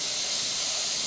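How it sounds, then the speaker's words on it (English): An airbrush sprays through a texture template laid flat, a steady close airy hiss throughout. "you can just spray through it as it's laying flat"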